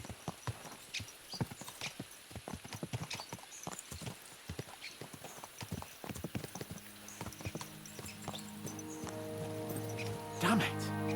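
Horses gallop in the video game Kingdom Come: Deliverance II, a rapid run of hoofbeats that fades into a steady rumble, then a whinny near the end.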